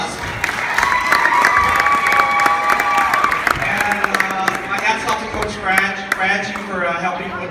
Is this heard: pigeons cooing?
no